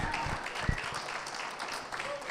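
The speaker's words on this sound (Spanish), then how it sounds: "denle un aplauso al Señor" A church congregation applauding during a sermon, a fairly soft, continuous patter of clapping with some voices under it.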